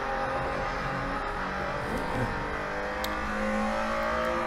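Porsche Carrera RSR 3.0 race car engine revving on the Nurburgring in the driving simulator Assetto Corsa, a loud, continuous close-up drone whose pitch rises and falls with throttle.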